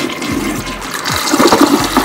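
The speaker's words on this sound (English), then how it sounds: "I'm gonna flush the toilet and see how this really works" A toilet flushes with a rushing, gurgling surge of water after a dose of Scrubbing Bubbles cleaning gel. The sound is close, loud and continuous, with no talking over it.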